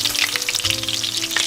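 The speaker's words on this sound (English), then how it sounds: "the chicken was getting perfectly fried" Chicken wings frying in hot oil, a dense crackling sizzle with bright spitting pops over a faint low hum, close and steady for a brief moment.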